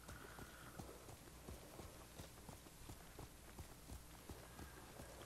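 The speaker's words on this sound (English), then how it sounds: "my horse is at a canter" A horse canters in the video game Ghost of Tsushima, with steady, rhythmic hoofbeats thudding over a dense, noisy background of game ambience, fairly quiet overall.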